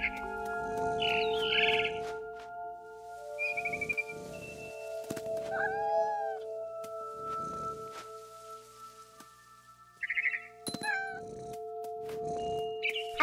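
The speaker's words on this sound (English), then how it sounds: "And suddenly, I was a cat." A cat in the video game What Remains of Edith Finch meows several times over a quiet, hissing rain-like background, with sharp chirping bird calls breaking in between, close and clear with no talking.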